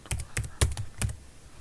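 Someone typing a name on a computer keyboard: about five or six distinct, close key clacks at an uneven pace over under two seconds, clear and alone in a quiet room.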